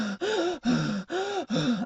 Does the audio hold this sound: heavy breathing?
yes